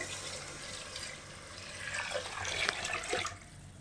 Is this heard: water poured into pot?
yes